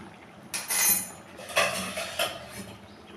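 A spoon scrapes and clinks against a pot while stirring chicken curry cooked without oil, seasoned with garam masala and ground black pepper; several uneven metallic knocks and scrapes, fairly close.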